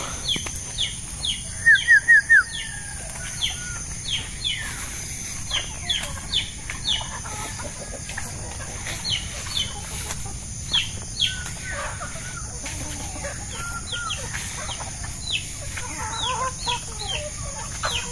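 Chickens cluck steadily across a farmyard, several birds overlapping in short repeated calls, with a quick rapid burst early on and a constant hum behind.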